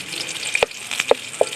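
Garlic frying in a pan while cooking the Ilocano liddeg dish, a steady sizzle with a few sharper pops and stirring clicks spaced out over the short stretch.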